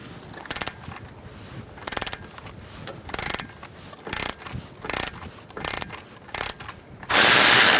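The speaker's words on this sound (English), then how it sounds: "using a 12mm socket, we're going to take out this bolt to the bracket" Ratchet wrench with a 12mm socket clicks through short bursts on a brake bracket bolt of a 2014-2019 Kia Soul, roughly a dozen close, loud bursts of rapid pawl ticks with pauses between, ending in a brief harsh rasp.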